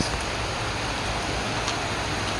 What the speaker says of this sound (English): we just keep having rain, like these short bursts.